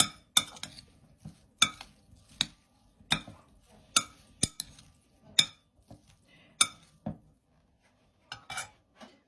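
Spoon clinks and taps in a bowl as salad is mixed with cream cheese, three garlic cloves and two tablespoons of corn, irregular sharp knocks close by with quiet gaps between.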